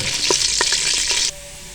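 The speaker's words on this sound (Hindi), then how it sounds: "ऑयल हमारा गर्म हो चुका है, इसमें हम लहसुन शामिल कर देंगे" Loud, close sizzling of garlic dropped into hot oil with a few stirring scrapes, the hiss cutting off abruptly partway through.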